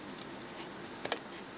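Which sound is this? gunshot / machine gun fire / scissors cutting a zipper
scissors cutting a zipper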